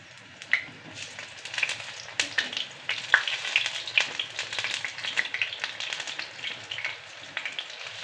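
Pakodi fritters sizzling and crackling in hot oil, a steady close frying hiss dotted with sharp pops and spits, with no talking.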